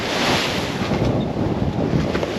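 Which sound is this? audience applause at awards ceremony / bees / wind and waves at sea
wind and waves at sea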